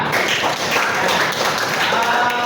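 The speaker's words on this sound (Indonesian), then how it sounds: "tepuk tangan dong buat Citra" An audience claps for Citra with steady, loud, close applause that continues throughout.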